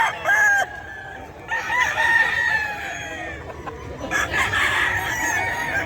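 Sweater Gray roosters at a busy Bocaue poultry market crow loudly and close by, one long crow following another, with clucking and other birds calling in between.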